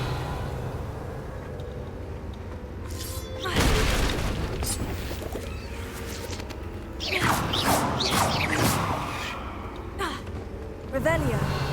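Revelio spell effect from Hogwarts Legacy: a shimmering, booming magical pulse cast twice, swelling loudly at around four and again near eight seconds over steady game ambience, with voices occasionally underneath.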